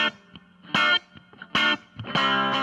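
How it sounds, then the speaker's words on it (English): Electric guitar played through the bridge pickup with reverb added, bursts of strummed chords alternating with short muted picks, each crisp attack trailing into a reverberant tail. "So if we put some reverb on that."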